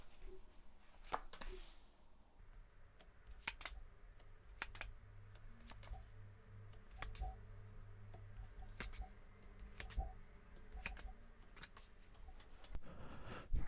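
Tarot cards being drawn and handled at a reading table, giving a quiet, scattered series of soft clicks, taps and card snaps with steady low background noise and no speech.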